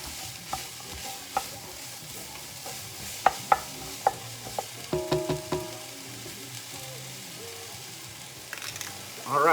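Ingredients being stirred into a pot of pasta fagioli, a low sizzle with sharp intermittent scrapes and clanks of a spoon against the pot, close and fairly quiet, with no one talking.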